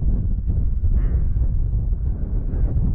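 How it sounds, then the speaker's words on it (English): Strong wind roars across a hilltop in Snowdonia, a loud, continuous low buffeting rush battering the microphone for the full three seconds with no voices. "Really windy up here now."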